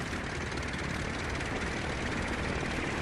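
The engine of a Gotha G.V bomber in a flight game throttles up for takeoff, giving a steady, close propeller drone with a constant pulsing beat and no talking.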